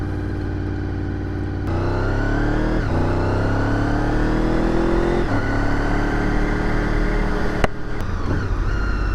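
A 2000 Honda VFR800 motorcycle engine revs and pulls steadily on a test ride, its loud, continuous drone rising and falling in pitch through several gear changes, with no talking.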